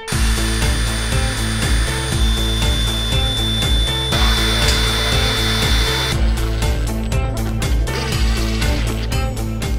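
A power drill runs continuously and loudly at close range as holes are drilled into a Toyota Supra trunk for a Voltex Type 10 swan neck GT wing, its whine shifting in pitch as it bites.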